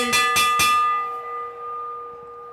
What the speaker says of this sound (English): They're going to hear the bell on the next lap.